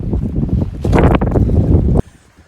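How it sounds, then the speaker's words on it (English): Strong wind gusts over open water near Pointe Aux Chene, Louisiana, buffeting the microphone in a loud, rumbling blast that cuts off abruptly after about two seconds. "the winds are kicking up really bad"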